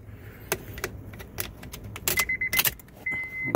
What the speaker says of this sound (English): I'm gonna turn the switch on.